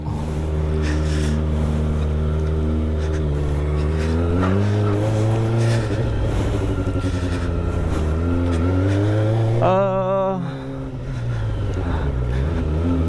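A Yamaha XMAX scooter engine rises steadily in pitch as the ride begins, a loud continuous drone that climbs, dips briefly near the end, then picks up again.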